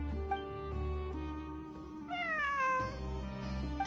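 A cat meowing in Genshin Impact or Wuthering Waves, a few clear drawn-out meows with one longer falling cry near the middle, heard over quiet background game music with no talking.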